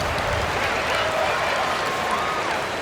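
A home crowd in the NBA 2K26 video game, Timberwolves versus Clippers, roars and cheers in a dense continuous wash throughout, with a few whistles rising out of it.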